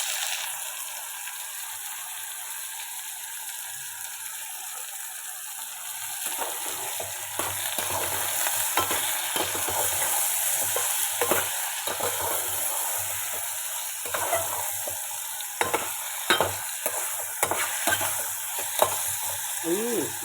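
Ivy gourd (tindora) stir-fries in a pan: a continuous hiss of sizzling oil, joined after a few seconds by repeated scraping and stirring strokes close by.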